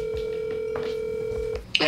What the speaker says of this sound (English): All right, let's call Josh